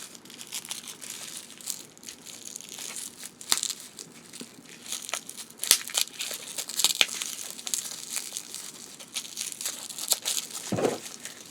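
A wrapped mail package being cut open, with steady crinkling and tearing of plastic or paper wrapping close up, punctuated by sharper rips and a louder crunch near the end.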